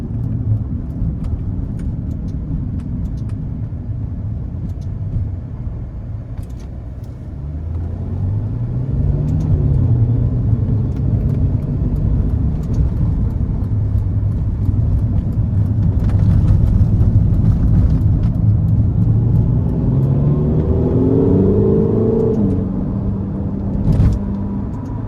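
A 2016 Ferrari California T with a 3.9-litre twin-turbo engine cruises on the road, its deep steady engine drone heard from inside over road and wind noise, rising in pitch as it accelerates and swelling louder midway.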